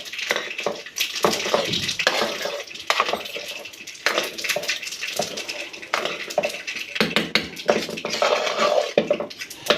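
Cooked rice from a pressure cooker being mashed by hand to a soft paste, with irregular squishing, pressing and occasional clinks of a dish, close and moderately loud.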